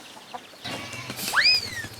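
A chicken gives a brief, rising squawking call, close and fairly loud, over a faint low background hum.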